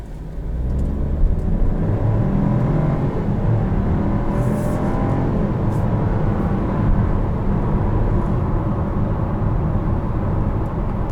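A 2021 Chevrolet Trailblazer Activ pulls hard from a standstill with sport mode off, its engine a steady, loud low rumble and whir building and holding from inside the cabin, with no talking.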